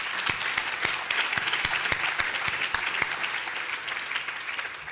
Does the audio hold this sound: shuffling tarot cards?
no